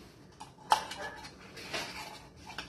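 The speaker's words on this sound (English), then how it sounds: "I'm just getting a spoon to get the whatever's on the bottom of my condensed milk" A metal spoon clinks and scrapes against the bottom of a tin of condensed milk: a sharp clink followed by several quieter scrapes and taps, close and faint, with no talking.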